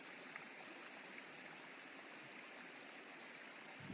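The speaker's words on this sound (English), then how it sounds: "As I followed the stream downhill past waterfalls and very inviting looking plunge pools" A mountain stream tumbling past waterfalls and plunge pools on Snowdon, giving a steady, dense rushing roar of water that stays constant and fairly loud throughout.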